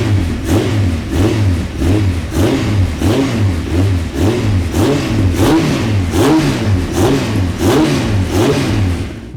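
A Honda Fireblade sport motorcycle fitted with a Micron exhaust can revs repeatedly in a steady rhythm of rising and falling throttle blips, loud and close, with no talking.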